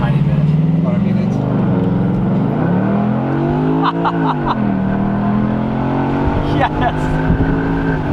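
A car accelerates hard on an open road during a car meet, its engine roaring steadily and loud with pitch sweeping up and down through the gears, while people talk and one voice cheers over it.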